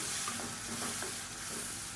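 Tamarind and pepper gravy simmering in a pan, a quiet, continuous bubbling sizzle with soft hiss and faint stirring ticks, heard close and alone without speech.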